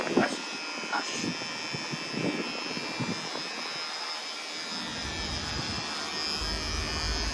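Battery-powered electric hair clippers buzz steadily while cutting hair during a home haircut, a thin continuous hum with brief rustles and soft voices nearby.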